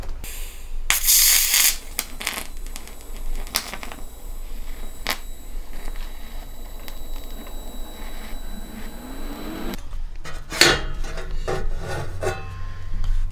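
A carbide bit in a rotary tool grinds and rasps against a metal Jeep exhaust piece, in scratchy bursts close to the listener, with short pauses and some clunks between passes.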